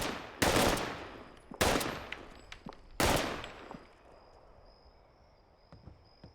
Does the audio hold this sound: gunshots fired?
yes